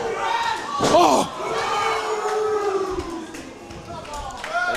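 A live wrestling crowd at a Santino Bros. Wrestling Fight Night show in Azusa, California, erupts in a loud roar that swells and then holds, while a commentator's excited voice rides over it.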